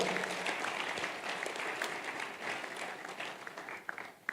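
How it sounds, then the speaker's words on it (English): An audience applauds steadily, a dense wash of many hands clapping at once that swells and then tapers toward the end. "clap for yourself, everybody"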